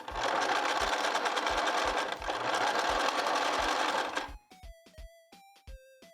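A sewing machine zigzag-stitches along a jeans hem in a fast continuous whirring run for about four seconds, then stops, leaving a few quieter clicks and ticks alone.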